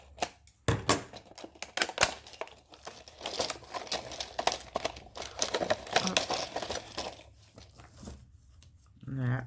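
Jars of Christmas baubles being opened by hand, close and fairly quiet, with irregular clicks, knocks and rustling clatter over a few seconds while a voice talks now and then.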